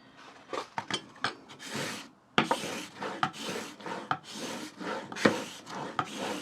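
Blade being stroked across a bench sharpening stone to remove the burr, a run of close, dry rasping scrapes in quick repeated passes with a few sharper clicks, and no talk.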